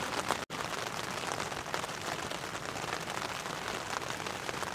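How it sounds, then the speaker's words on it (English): Rain falls on a camping shelter during a solo trip, making a constant, close patter and hiss with no talking. "There's something about the sound of rain on your shelter, knowing that you're warm and dry."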